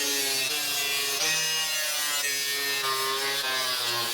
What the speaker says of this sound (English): So I cut a hole in the floor.